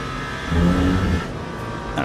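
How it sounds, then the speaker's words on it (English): A Toyota car engine in a racing game revs up briefly with a low growl, then settles back to a steady hum. "Not a huge fan of the sound of the Toyota"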